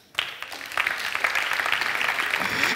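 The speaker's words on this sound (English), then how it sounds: "A big round of applause for that." A crowd at a virtual reality award show at VR NOW Con 2017 breaks into steady, dense applause that starts abruptly after a brief quiet moment and holds at a strong, even level throughout.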